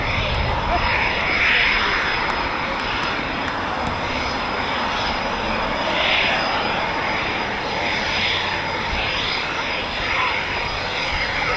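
Eurofighter Typhoon FGR4 jet taxiing at an RAF station, a steady loud engine whine and roar that holds for the whole stretch with gentle swells, no talk over it.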